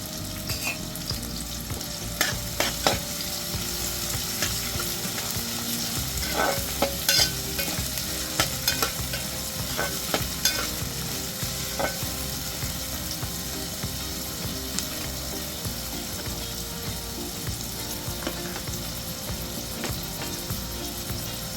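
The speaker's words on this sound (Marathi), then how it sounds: "कांदा तांबूस होईपर्यंत आपण भाजून घ्यायचा" Onion and garlic fry with curry leaves in a pan for Maharashtrian masoor dal, a steady loud sizzle under repeated scraping stirs of a spoon, with no voices.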